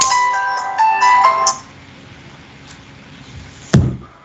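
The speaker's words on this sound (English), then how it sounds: "sorry about the phone ringing" A phone ringtone plays loudly with a bright, melodic electronic tone for about a second and a half, then cuts off, followed by a quiet pause and a single dull thump.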